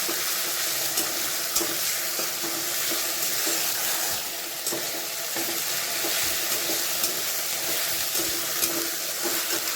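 A Bengali chicken curry base frying in a pan gives a dense, continuous close-up sizzle with faint stirring scrapes and no talk.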